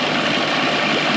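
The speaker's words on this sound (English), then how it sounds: "It's actually not idling too bad." An old outboard boat motor idles close by in a steady, even rumble with no talking, the engine note holding constant throughout the short stretch.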